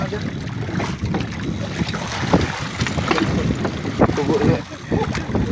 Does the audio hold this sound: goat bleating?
no